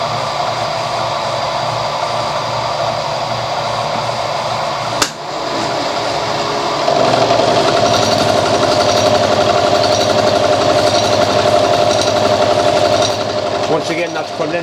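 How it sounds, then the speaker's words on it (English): Metal milling machine cutting in conventional milling, a steady loud grinding whir that stops with a sharp knock near the middle, then resumes with a louder tonal cutting whine that holds to the end. "Once again, that's conventional milling."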